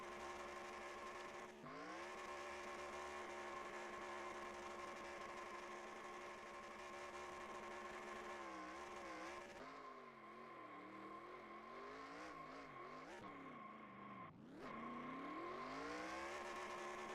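Simulated stock race car doing burnouts at Darlington in the NR2003 racing game: a loud, sustained engine drone with revs rising and falling and sweeping tire-squeal tones, running continuously without talk.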